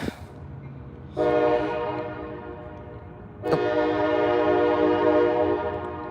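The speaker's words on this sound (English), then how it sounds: "that train is so annoying." A train rumbles past with a loud, sustained horn-like tone that rises twice, steady and close, over a low background hum.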